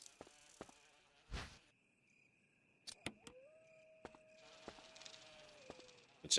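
Bees buzz in Resident Evil 1, a thin insect drone with sharp clicks and pops scattered through it, fairly faint and heard alone with no talk.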